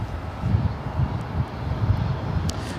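An Air Canada Boeing 737 MAX 8 jet at LAX roars steadily with engine noise, loud and fairly near, with a faint wind rush and no voices.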